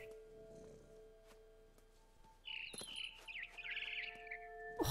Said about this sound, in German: Wo ist das Vögelchen?